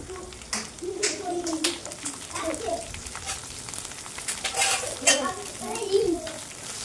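Onions frying in hot oil with cashews, curry leaves and coriander, a steady sizzle broken by repeated scrapes and stirring clinks of a utensil in the pan, with a voice talking over it at times.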